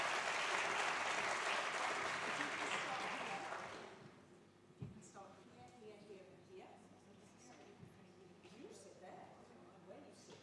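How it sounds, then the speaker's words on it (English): Warm applause from a seated audience at a climate change adaptation forum, loud and sustained for about four seconds before fading out, followed by scattered sounds and a speaker talking. "you may give them, please, warm applause"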